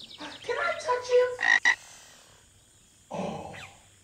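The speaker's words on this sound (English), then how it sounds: "What makes a ribbit sound? A frog!" A green frog croaks in a short run of close, loud ribbit calls, followed by a brief pause and one more throaty croak, with no talking over it.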